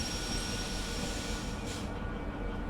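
Locomotive running on rails in Derail Valley Simulator, moving at about 60 kilometres an hour, a steady loud rumble of wheels and engine with a faint high whine, continuous throughout and easing slightly toward the end.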